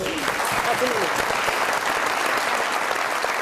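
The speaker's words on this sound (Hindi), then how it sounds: "बहुत सारी तालियां रोशन और चिराग के लिए" Studio audience applauding on a Pakistani TV comedy show, a dense steady wash of clapping with a few voices calling out over it, close and loud throughout.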